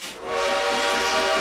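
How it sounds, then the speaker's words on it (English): Antique British-built steam locomotive on the Darjeeling Himalayan hill railway in India: a sustained, loud whistle tone rising in after a brief start and holding steady over rumbling train noise. "These antique locomotives were built in Britain and shipped here specially for this line."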